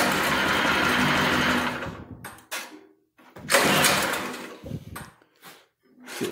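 A new Predator 212cc engine fitted to an antique tractor being started: loud, rough sputtering bursts separated by short silences as it is pulled over and briefly catches, close up with no talking.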